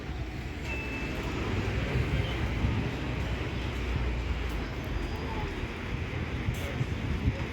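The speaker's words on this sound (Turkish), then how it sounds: "Esiyor zaten rüzgar" Steady, heavy wind rumble buffeting the microphone, continuous and loud throughout with no pauses.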